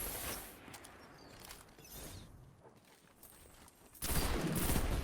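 Bursts of rapid gunfire crackle through a competitive video game match mid-fight, a few volleys with a louder close burst near the end, and no voices over them.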